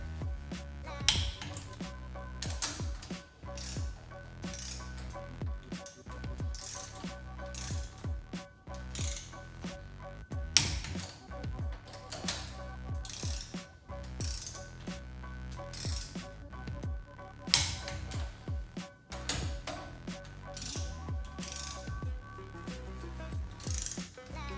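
A torque wrench clicks repeatedly while ARP head studs are tightened on an LS head going onto a Honda VTEC engine in a turbo Integra. Sharp ratcheting clicks come close and steady, with no talk.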